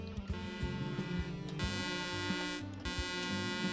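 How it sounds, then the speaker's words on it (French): A heavy truck horn in Euro Truck Simulator 2 that sounds like a ship horn, a deep, buzzy tone blown in several long blasts with short gaps, quiet and alone with no talking. "C'est un klaxon de bateau en fait hein."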